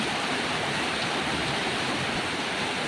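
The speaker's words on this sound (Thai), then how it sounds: "ฝนตกแรงอยู่นะจ๊ะ" Heavy rain pours down steadily in a Thai countryside downpour, a dense, continuous hiss that stays loud and unbroken throughout, with no voices over it.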